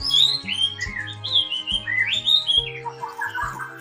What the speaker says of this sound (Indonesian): untuk masteran yang satu ini adalah jalak suren ya